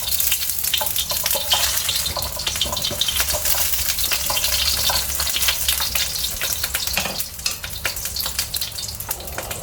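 Chopped garlic and onion fry in hot oil, producing a loud, dense, continuous sizzle with crackling bursts, heard up close with no voices.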